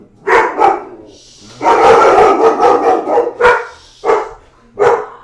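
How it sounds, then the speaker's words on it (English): Dogs barking loud and close in a string of sharp bursts, a couple of quick barks followed by a sustained volley and then several separated single barks, with no talking. "there goes the dogs"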